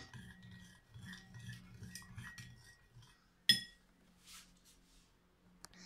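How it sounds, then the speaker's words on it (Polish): Slime is stirred and shaken inside a closed container, making faint clinks, taps and rubbing rattles, with one sharper knock partway through, all quiet and close. "Zamykamy i teraz mieszamy."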